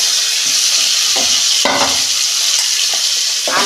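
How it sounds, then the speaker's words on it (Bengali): Potato and kohlrabi fry together in a wok, giving a steady broadband sizzle with a few scraping stirs and a louder clatter partway through, heard close and alone. "কড়া বসিয়েছি আলুটা ওলকপিটা ভেজে নেব"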